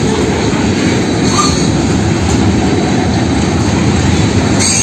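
A freight train hauled by Union Pacific and KCSM locomotives rumbles past close by in Mexico, a loud, continuous roar of wheels and cars with no break.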